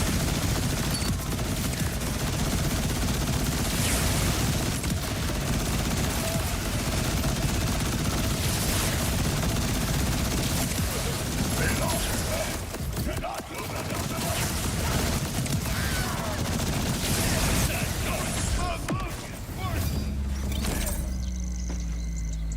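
Rapid, nonstop gunfire from a gun in the shooter game Borderlands 4 pours out loud and dense for about twenty seconds, briefly thinning midway and shifting near the end, with faint talk mixed underneath.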